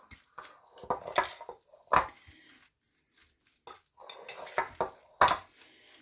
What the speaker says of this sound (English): So we're just going to mix this up.